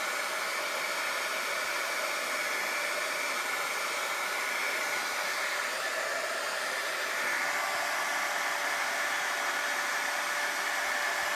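A heat tool for melting embossing powder on a handmade card runs steadily throughout. It gives an unbroken blowing hiss that shifts slightly in tone partway through.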